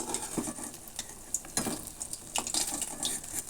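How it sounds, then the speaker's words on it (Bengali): Spinach and egg bhapa frying in a pan, a soft oily sizzle broken by repeated scrapes and clinks of a spatula against the pan, close and moderately loud. "বাকি ভাপাগুলো আমি এইভাবে ভেজে তুলে নেব"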